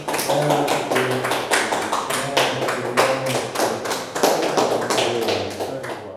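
Audience applause at an award ceremony where a plaque honours a lawyer: dense, continuous clapping with sharp taps throughout, loud and steady, some faint murmuring under it.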